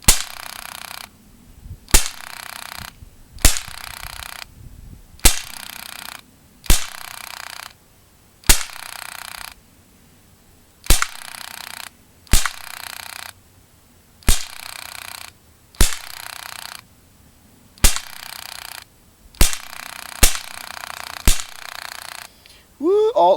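Modified Drozd Blackbird air pistol fired in single shots at a target 15 yards away on a homemade stand: about a dozen sharp, near snaps spaced a second or two apart, each with a brief mechanical hiss trailing it.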